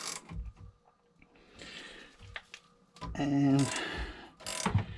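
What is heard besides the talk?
wrench turning oil burner filter counterclockwise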